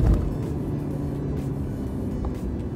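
Mercedes-Benz C 300 AMG Line accelerating progressively in sports mode, a steady, fairly loud engine drone from inside the car holding a constant tone for a few seconds.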